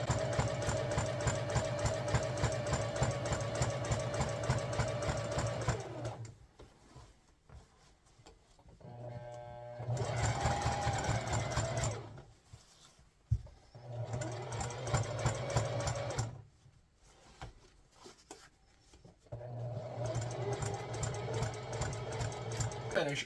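Sewing machine stitching a twill hockey jersey crest, running in several bursts of steady rapid stitching separated by pauses, close and fairly loud.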